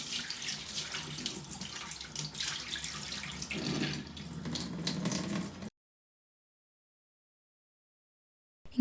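Tap water runs over raw chicken in a sink as it is washed for biryani, a splashing, uneven flow for several seconds that then stops abruptly, leaving silence.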